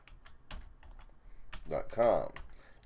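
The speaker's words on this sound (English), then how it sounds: "We'll type in google.com." Short bursts of clicky keystrokes on a computer keyboard while entering a web address on a Windows 95 machine, close and light, with quiet gaps between taps.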